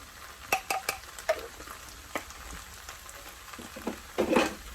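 Veggie fried rice being stirred in a pan after sauce is added, with soft scraping and sizzle punctuated by several sharp utensil knocks against the pan and a louder clatter near the end, no talking.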